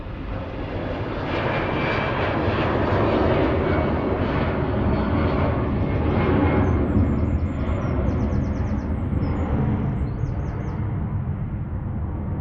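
An EasyJet Airbus A320 Classic jet takes off from Manchester Airport, its engines producing a loud, continuous roar that holds steady throughout, with faint birdsong audible in the background.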